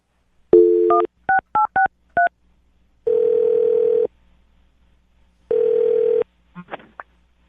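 Several quick touch-tone beeps as a number is dialed, then two long ringback tones separated by silence, ending with a brief click and faint voice.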